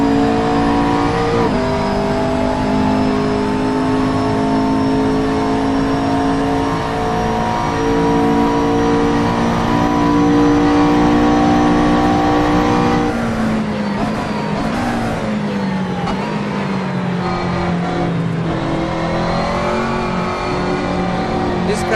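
Loud racing video game car engine droning and revving steadily with shifting pitch, like a race car at speed, continuous throughout with a brief dip midway.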